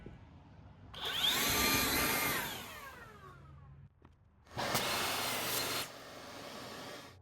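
Wooden end strips for a crate being cut to 13 inches with a power tool: two loud bursts of sawing or grinding, the first about three seconds long with a whining pitch that slides down as it slows, then a short pause before a second burst.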